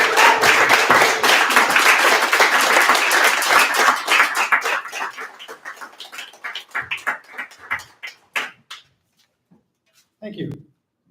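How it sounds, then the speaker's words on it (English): Audience applause for a poet walking up to the stage at a poetry reading night, dense and sustained at first, then thinning into scattered individual claps before fading out, with a brief voice near the end. "please clap him all the way up to the stage."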